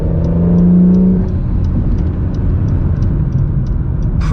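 A 2020 Acura NSX pulls out of a corner on a race track, its engine a loud, steady droning roar heard from inside the cockpit, with a brief rising tone early on and a sharp noise at the end.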